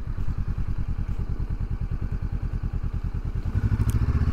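Honda CL500 Scrambler motorcycle idling and creeping at full steering lock, a steady low rhythmic engine thrum throughout, close and fairly loud, with a slight rise near the end.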